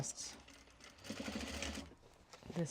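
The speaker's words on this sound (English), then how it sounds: "I'm going to backstitch my edges here." A sewing machine backstitching along a bag's edges, its fast mechanical whir running close and soft under a person talking quietly.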